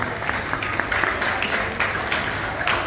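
Applause from the audience at a Pink Pride 2.0 fashion show, dense steady clapping with a few sharper claps standing out, sustained at a fairly loud level for a few seconds.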